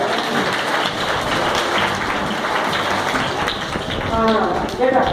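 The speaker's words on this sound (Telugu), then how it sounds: "క్లాప్ ఇవ్వండి అందరూ." Children in a kids' yoga class clap together in a dense, continuous burst of applause that stays steady for several seconds.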